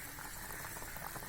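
Paruppu urundai kulambu simmers in a wide pan with a faint, steady bubbling and soft popping, quiet and close, with no voices.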